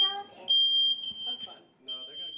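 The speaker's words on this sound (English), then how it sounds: "they went to work checking all of her smoke alarms" A smoke alarm gives sharp, high electronic chirps during a firefighter check in a home, with a short beep early on and another late, while people talk around it.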